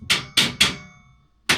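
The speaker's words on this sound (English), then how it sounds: "Give it a little help with the hammer." A hammer taps a wooden shelf into place on a shelving unit, giving three quick close knocks followed after a short pause by a fourth, each sharp and ringing briefly.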